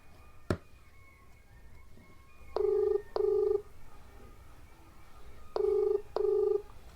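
Outgoing ringback tone on a phone call to a friend, heard as two pairs of double rings spaced about three seconds apart, clear and moderately loud over quiet room noise, after a single sharp tap at the start.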